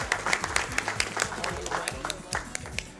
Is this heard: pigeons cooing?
no